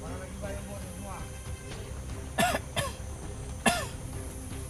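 A few short, sharp coughs burst out in quick succession near the microphone, against a steady background murmur of voices.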